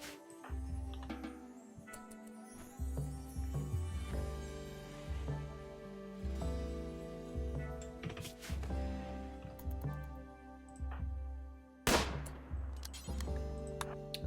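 Gunshots in the colony game RimWorld crack out as a few sharp, scattered reports over a steady pulsing music bed, fairly faint with one louder bang near the end.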